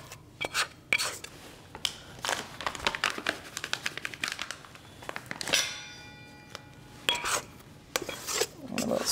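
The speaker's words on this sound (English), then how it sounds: "A little scraper." Scraper scraping and working a soft pizza dough, giving close, irregular rasping and rubbing strokes with occasional light clinks of metal.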